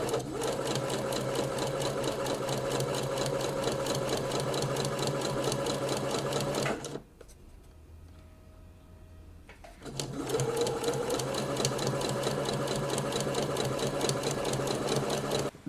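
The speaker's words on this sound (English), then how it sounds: "So now I'm going to sew it in on the other side as well." A sewing machine stitches a puff sleeve seam in steady, loud, continuous runs, pausing briefly in the middle before the stitching resumes at the same even pace.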